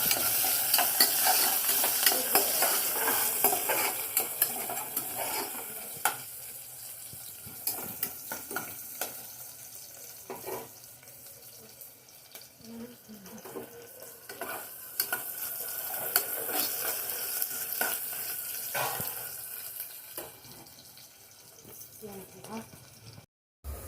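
Onions frying in a pan until browned for bagara rice, with steady close sizzling and repeated scraping stirs and clinks of a spoon against the pan throughout, fading near the end.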